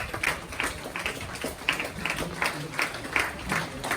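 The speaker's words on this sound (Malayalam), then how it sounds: "നല്ല കയ്യടി പിടിച്ചു കേട്ടോ." Audience at a residence association annual meet claps for recognised students, a steady patter of applause from a modest crowd with rhythmic clustered claps, fairly close, with a faint voice underneath.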